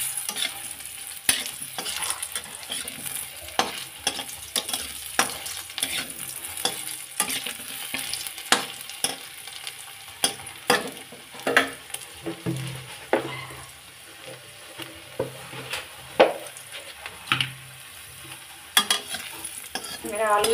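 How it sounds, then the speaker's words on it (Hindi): Potatoes fry in hot oil in a pan, a steady sizzle broken by frequent sharp scrapes and clinks of a spatula stirring them, close and fairly loud, with no talking. "अब मैं इसमें आलू को भी भून लूँगी"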